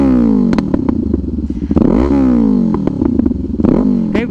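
Kawasaki Ninja 500 fitted with an SC Project open-pipe exhaust, revving loud and close in repeated rising blips with sharp pops and crackles between throttle bursts.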